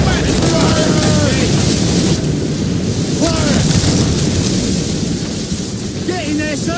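Ship cannon volleys firing in naval combat in Assassin's Creed Rogue: loud rumbling booms over roaring wind and sea noise, with crew voices shouting orders throughout.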